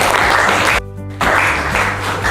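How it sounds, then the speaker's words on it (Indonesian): Audience applause in a classroom-style workshop on weather and climate analysis, loud close clapping that briefly drops out for a moment before resuming. "Tepuk tangan juga ya."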